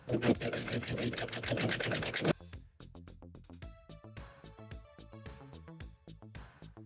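A sewing machine stitches a halter bathing suit strap, first a fast continuous whirring run, then slower stop-start bursts of needle clatter, close up with a voice faintly present.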